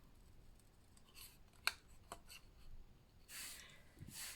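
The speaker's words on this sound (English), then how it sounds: "I'm just going to cut these ones out now" Scissors snip around small paper flowers during card making, producing a few soft, close cuts and rustles of paper, quiet and unhurried.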